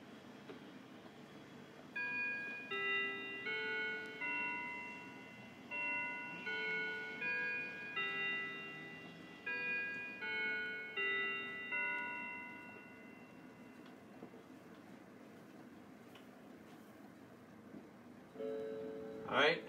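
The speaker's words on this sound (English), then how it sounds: "here's the quarter till Westminster chime" A Howard Miller Langeland mantel clock plays its quarter-hour Westminster chime: clear, ringing melodic bell tones in measured groups of four, steady and close, with no talking over them.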